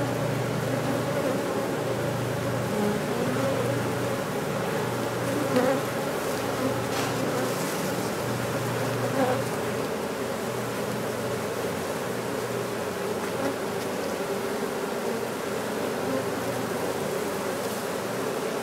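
Honeybees buzz in a dense, steady drone, loud and close, as a JC's Bees nuc is transferred into a 10-frame hive, with faint handling noises now and then.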